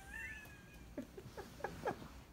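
A few short, quiet cat meows and chirps come one after another near the end, after a faint whistle-like tone.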